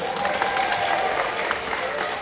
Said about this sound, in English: Give them a round of applause for their advice